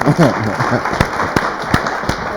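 Audience applause at a café theatre event in France, a dense crowd clapping with a few sharp, louder claps standing out, with voices over the start.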